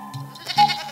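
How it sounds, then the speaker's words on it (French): A cartoon goat gives a short wavering bleat, close and fairly clear, lasting under a second. "Petite chèvre!"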